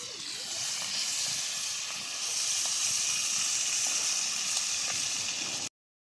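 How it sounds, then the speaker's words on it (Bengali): A fish head fries in a pan, giving a steady, even sizzling hiss at moderate volume that continues unbroken until it cuts off abruptly at the end. "মাছের মাথা ভাজা শেষ"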